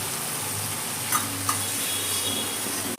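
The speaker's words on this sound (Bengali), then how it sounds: "সেই পেস্টটা এর মধ্যে আমি ঢেলে দিলাম। এটাও আমি খুব ভালো করে কষিয়ে নেবো।" Spice paste of cumin, coriander, turmeric and red chili frying in a pan for fish kalia, a steady close broadband sizzle with a low hum underneath and a couple of faint clinks from stirring.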